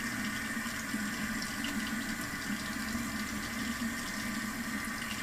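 Tap running while rinsing an ear piercing, a steady hissing stream of water splashing into a sink, constant and fairly close, no voices.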